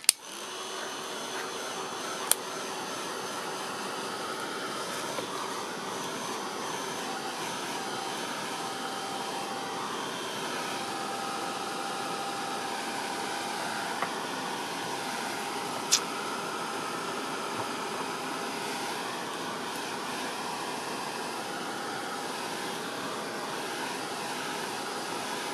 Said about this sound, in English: Just going to give that a quick blast to dry it a little bit.